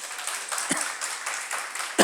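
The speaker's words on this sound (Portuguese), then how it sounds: "Dá uma salva de palmas para Tote." A church congregation claps for their treasurer, Tote, producing a soft, brief burst of scattered applause that carries on steadily for a couple of seconds, fairly quiet and distant.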